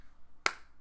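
A single sharp finger snap or hand clap sounds close and crisp, then dies away quickly in a quiet room.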